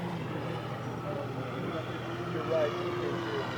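A World Models 1:3 scale Super Cub RC plane with a 141-inch wingspan performs 3D maneuvers at St. George, Utah. Its engine drones steadily in the distance under outdoor wind noise, with a slight swell partway through.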